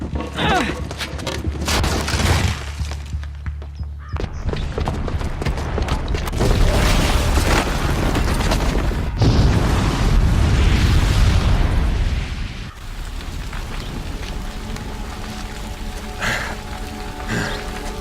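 Bomb blowing up in Horizon Zero Dawn after a booby trap is set off: loud rumbling blasts, crashing debris and mechanical creaks, with a big roar near the middle that then drops into lighter rattling and clatter.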